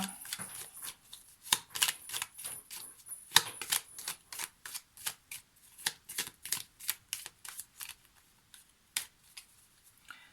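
A deck of 77 tarot cards is shuffled by hand for a daily reading, giving a quick run of crisp papery riffles and slaps in an uneven rhythm, close and fairly quiet, with no talk.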